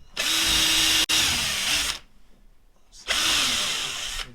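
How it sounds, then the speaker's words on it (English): Power drill boring a hole through the aluminum fuselage of a hydrofoil, two loud whining bursts separated by a short pause, close and clear with no talking. "So drill at the bottom of the hole like that, and then the screw will pin it down and in."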